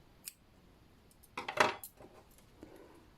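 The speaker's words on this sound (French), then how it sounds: "on coupe le fil" Scissors snip through crochet yarn, a short close cut with a brief metallic rustle between quieter handling noises.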